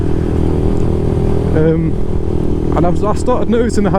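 Lexmoto LXR 125 motorcycle riding on the road, a steady engine drone with low rumble and harmonic hum running throughout, loud and close, with someone talking over it for most of the clip.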